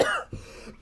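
A single short cough, harsh and close, with a rough throat-clearing quality.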